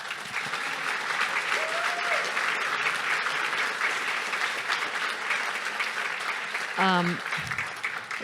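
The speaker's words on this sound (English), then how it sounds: "So big clap to Andrew." An audience applauds Andrew Gold in a steady, even wash of clapping that holds throughout, with a brief voice cutting in near the end.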